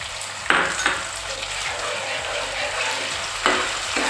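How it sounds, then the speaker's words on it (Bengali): Gobindobhog rice frying in ghee with a bay leaf in a pan over raised heat, a steady close sizzle broken by a few scraping stirs of a spoon against the pan. "এবার চালটা আমি উনানের আঁচ বাড়িয়ে নেড়ে নেড়ে ভালো করে ভেজে নেব।"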